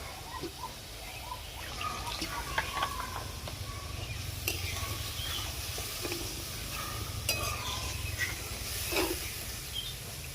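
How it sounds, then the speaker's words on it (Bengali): Water added to fried spice mix in a pot, simmering into a curry for lau dhoka, a soft continuous hiss and bubbling with faint clinks of stirring, fairly quiet and close. "মশলা যেহেতু আমার ভাজা ছিল, আমি এবারে এর মধ্যে পরিমাণ মতো জল দিয়ে দিব।"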